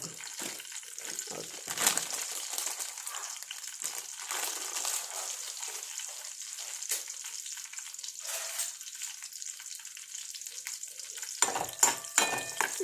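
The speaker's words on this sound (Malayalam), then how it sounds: "കുറച്ച് എണ്ണ ഒഴിച്ച് വേണം മുളക് വറുക്കാൻ" Chillies frying in a little oil in a home kitchen pan, a quiet steady sizzle with occasional stirring scrapes and a brief louder clatter near the end.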